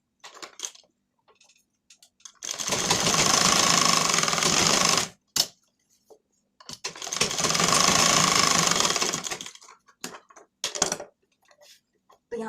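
A sewing machine runs in two sustained bursts of rapid whirring stitches while tucks are sewn into a blouse lining, loud and close, separated by brief pauses with small handling clicks and taps of fabric.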